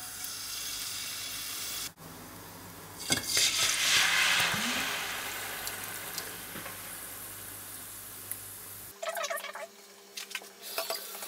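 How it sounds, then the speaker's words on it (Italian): Onion frying in olive oil in a pot, a steady sizzle with faint stirring and clinks, loud at the start before dropping off abruptly near the end. "Intanto metto della cipolla con una pentola e un po' di olio e la faccio soffriggere"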